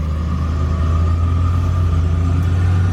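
Holden Barra engine in a car pulling in third gear, running lean with a suspected fuel pump problem, giving a loud, steady droning rumble heard from close by without a break and with no one speaking.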